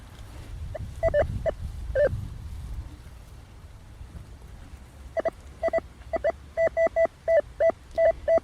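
Metal detector sweeping a sandy beach in Cherkasy emits short tonal beeps, a couple of scattered signals early, then a rapid run of repeated evenly spaced beeps after a quiet stretch, clear over faint wind and ambient noise.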